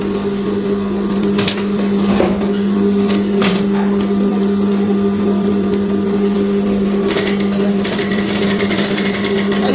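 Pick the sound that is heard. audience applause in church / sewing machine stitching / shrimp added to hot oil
sewing machine stitching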